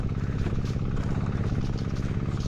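An engine-powered sprayer runs continuously with a steady, rattling motor drone while spraying chili plants, loud and close with no pauses.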